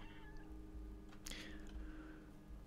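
A cat in the video game Stray lets out a clear, drawn-out meow near the middle, quiet overall and set against low ambient game hum.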